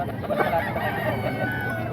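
Chickens for sale at the crowded Bocaue fowl market squawk and crow amid a continuous wash of market noise, with no clear talk over them.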